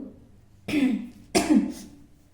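Two distinct coughs close by, separated by a brief pause, each a harsh burst that trails off into silence.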